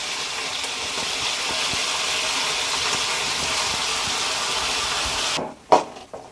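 Ground masala paste hitting a hot pan for paneer masala gravy, a steady close hiss and sizzle that cuts off abruptly near the end, followed by a brief clatter.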